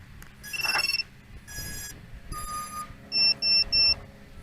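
A loud electronic buzzer on a VIFLY Finder drone alarm sounds in several tonal chirps and beeps at power-up, ending with three strong, evenly spaced beeps close to the microphone.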